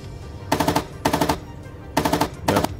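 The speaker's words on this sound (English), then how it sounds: "I'll switch to my coaxial machine gun." Coaxial machine gun of a BMP-1 infantry fighting vehicle firing in the PC tank game Gunner HEAT PC: four loud, close bursts of rapid shots, each about a quarter second long, separated by brief pauses, with no talking.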